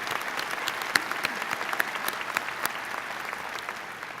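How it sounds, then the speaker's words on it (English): Audience applause fills the hall at a Virginia Tech Graduate School spring commencement, a steady, moderately distant patter of many hands with a few sharper claps standing out, no voices over it. "Please recognize them with your applause as well."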